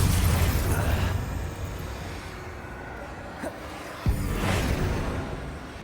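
A Bombarda spell explosion in the Hogwarts Legacy video game, a muffled boom with a sharp pop near the end over a rumbling game background.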